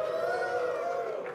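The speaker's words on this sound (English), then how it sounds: "So if you could stand up and cheer." A seated audience at a tech talk rises and cheers, a brief sustained wash of crowd voices and whoops that sounds slightly distant.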